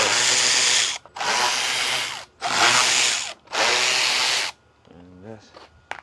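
T25 Torx screws are backed out of a Mercedes/Dodge Sprinter van grille with a speed handle, making four loud, close whirring bursts of about a second each with short gaps, then a brief voice.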